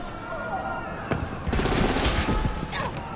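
A flurry of gunshots erupts in a Batman Telltale game scene, a single crack followed by a dense, rattling volley over steady background noise.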